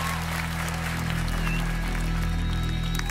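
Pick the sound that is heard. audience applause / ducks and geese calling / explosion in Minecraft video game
audience applause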